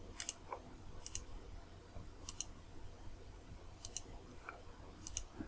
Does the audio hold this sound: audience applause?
no